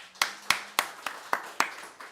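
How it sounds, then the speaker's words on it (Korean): A church congregation claps in unison, seven sharp, evenly spaced claps about a quarter second apart, fairly faint and with no voices over them. "박수 한번 하겠습니다."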